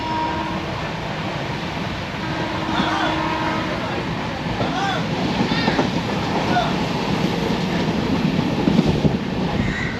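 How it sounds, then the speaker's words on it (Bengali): A sleeper-class passenger train in Kerala rolls along the rails with a steady rumble and faint rhythmic clatter, heard from inside the carriage, while voices talk in the background. "আমাদের ট্রেন যাত্রা শুরু করে দিল"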